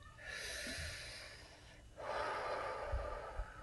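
A slow deep breath drawn in close to the microphone, an airy inhale followed by a breathy exhale, soft and unhurried with no talking.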